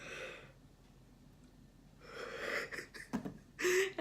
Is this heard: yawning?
yes